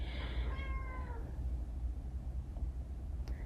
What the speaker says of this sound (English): Sorry, it's my cat.